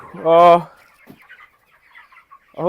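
A chicken kept on a winter farm gives a loud close squawking cluck, followed by quiet soft rustling and another sharp cluck at the end.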